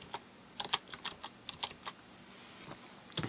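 Computer keyboard typing, a quick run of light key clicks in uneven bursts, close and fairly quiet with no voices over it.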